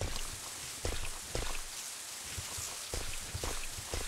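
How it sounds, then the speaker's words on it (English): Quiet rain falling outside in Resident Evil 3, a soft steady hiss with scattered drops and faint taps throughout. "It's raining outside."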